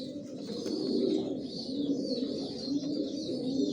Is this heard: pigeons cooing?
yes